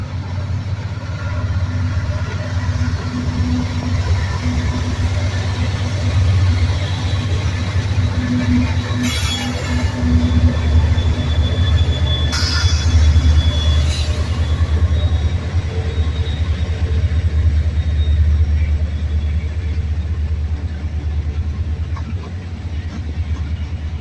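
Freight train with many locomotives rumbling past at a Buffalo, New York rail yard, a steady low engine drone and wheel noise lasting throughout with brief metallic squeals.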